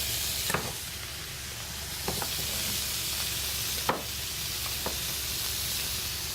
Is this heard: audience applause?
no